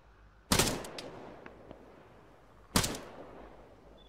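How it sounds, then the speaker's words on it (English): Rifle fire in Arma 3, aimed at targets about 400 metres away: two loud, sharp shots a couple of seconds apart, each trailing off in a long echoing decay. "I'm shooting at 400 and it's dropping a little bit low."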